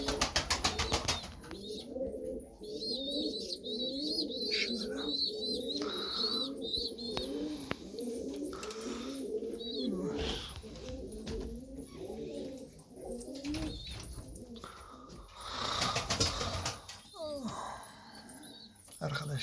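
Young tumbler pigeons in their coop coo in repeated soft, rolling calls, close and steady, with some chirps, a brief bark and someone talking at moments.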